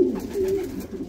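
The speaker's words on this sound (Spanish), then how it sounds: "Estoy feliz con mis palomas. Súper sanas, súper limpias." Domestic pigeons give a low, soft coo, one drawn-out call close by with no voices over it.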